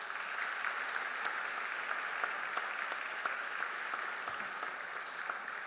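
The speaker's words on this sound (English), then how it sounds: "Please give him a warm round of applause." Steady, sustained applause at a science awards ceremony as an audience welcomes Professor Brian Schmidt, a continuous even patter of many hands heard from a distance in a large hall.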